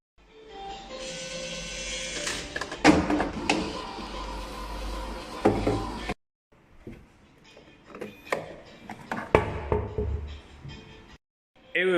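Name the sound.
OTC medicine vending machine conveyor belt delivering medicine box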